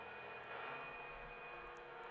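Helicopter in a video game, a steady droning rotor and engine whine held at an even, fairly faint level throughout with no talk over it.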